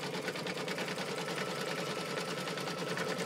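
An embroidery machine stitching a design onto mirror glitter canvas vinyl, a steady fast mechanical whir and rapid needle chatter running continuously at close range with no talking.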